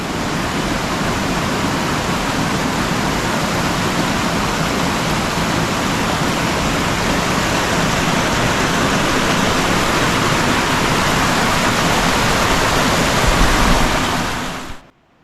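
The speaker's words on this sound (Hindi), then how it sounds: "The sound of waterfalls." A waterfall pours in a loud, unbroken roar of rushing water that stays even for a long stretch, then cuts off abruptly at the end.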